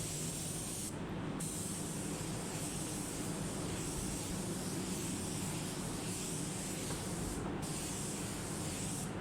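Aerosol clear coat from an Upol headlight repair kit sprayed in very light coats onto a car headlight, a steady close hiss running almost without break, with two brief pauses between passes.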